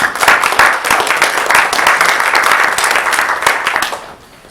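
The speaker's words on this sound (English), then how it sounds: "Please give a round of applause for Brooklyn Brown." An audience at a school district gathering gives a loud round of applause, many hands clapping steadily for about four seconds before quickly dying away.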